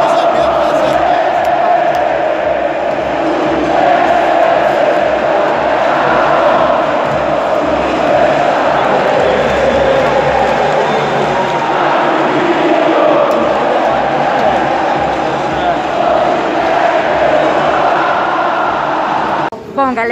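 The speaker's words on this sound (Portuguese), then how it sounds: "A torcida tá gritando" Big football crowd roaring and shouting inside Maracanã stadium in Rio, heard from a hospitality box as a dense, continuous wash of voices across the whole stretch.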